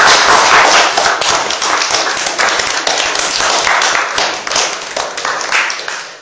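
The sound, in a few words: audience applause for the panel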